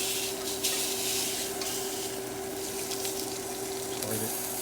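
A steak searing in a cast-iron pan gives off a steady, dense sizzle that fills the whole stretch at an even loudness, with a faint constant hum running underneath.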